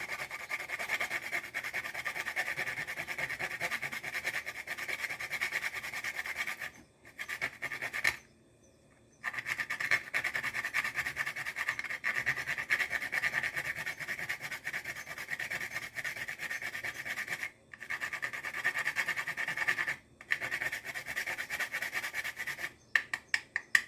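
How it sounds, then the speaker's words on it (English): Whole dried nutmeg rubbed up and down on a small kitchen grater for cookie baking, a close steady rasping scrape in long continuous strokes with brief pauses between passes. "you're just going to literally run that back and up and down, and it will grate that nut right in there"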